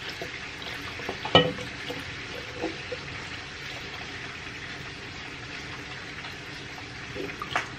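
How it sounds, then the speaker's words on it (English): A spoon stirs sugar into sun tea in a jar: faint, steady swishing of liquid with a brief clink early on and a few soft knocks. "I'm going to give it another stir"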